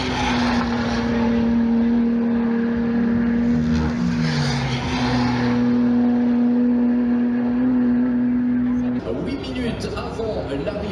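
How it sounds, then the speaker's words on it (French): McLaren Trophy race cars roar past on the Spa circuit on a rainy day at the 24 Hours centenary, a sustained engine drone rising and shifting before a car sweeps by near the end, with people talking over it. "je vous ai filmé 2-3 passages du McLaren Trophy qui est actuellement sur la piste."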